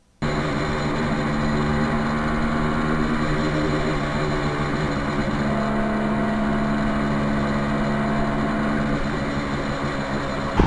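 A 1973 Kawasaki H1 two-stroke motorcycle engine runs steadily while being ridden. It is a loud, continuous, buzzing drone with a constant rumble throughout and no talking.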